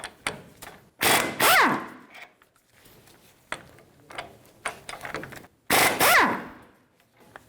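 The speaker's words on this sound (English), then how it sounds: "Remove the 19mm bolts for the lower ball joint bracket." A power tool zips out 19mm bolts from the lower ball joint bracket of a 2005–2015 Toyota Tacoma, two sharp loud bursts with pitch sweeping down as each bolt spins free, separated by quieter clanks and handling noise.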